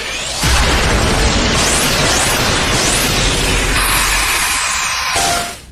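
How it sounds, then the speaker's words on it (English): An anime-style pinpoint transmission beam fires at six ships as a loud, sustained roaring blast with rapid descending zaps layered through it. It drops away sharply at the end. "Pinpoint transmission beam ready. Locked onto all 6 ships. Firing!"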